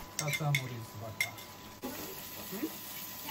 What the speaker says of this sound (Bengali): আবার একটু নেড়ে ছেড়ে নেব।